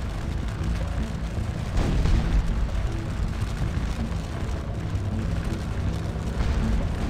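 Canister artillery fire in the Napoleonic battle game Scourge of War: Waterloo, a dense, continuous rumble of distant cannon booms and battle noise that swells slightly midway and holds steady, with no talking.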